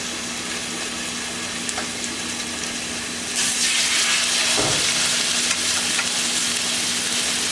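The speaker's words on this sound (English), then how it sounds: "Nice sizzle." Pork chops sizzle in hot oil in an oversized pan, a steady loud frying hiss that swells louder partway through.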